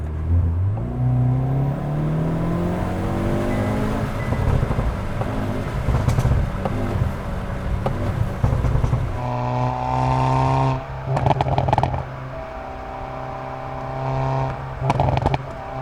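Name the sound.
Hyundai Veloster N DCT engine revving with exhaust backfire pops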